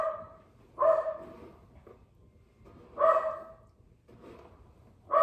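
A pet dog barks in a quiet home, three separate barks roughly two seconds apart, at moderate distance with no talking.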